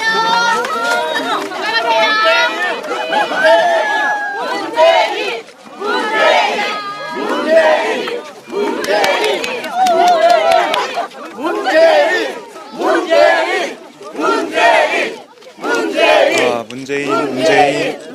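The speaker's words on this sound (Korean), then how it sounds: "문재인 연호가 계속 들리고 있습니다." A crowd of citizens chants Moon Jae-in's name in repeated rhythmic bursts at a lively outdoor memorial visit in Bongha, with cheering between chants and a close reporter's voice talking over it.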